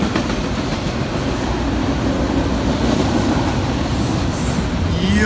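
BNSF locomotive 1021 in a distinctive paint scheme rolls past close by, a loud steady roar of engine and wheels with rhythmic clickety-clack on the rails throughout.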